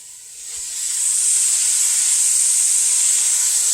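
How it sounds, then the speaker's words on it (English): Tomato sauce ingredients sauté in a pan, a soft hiss at first that swells within a second into a loud, steady sizzle and stays constant, close and unbroken, with no talking. "We want to saute these down until they're nice and tender. You can hear them."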